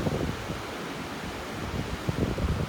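Strong wind blows hard across a beach in North Naples, Florida, a steady roar of broadband rushing noise that swells slightly toward the end, with no voices.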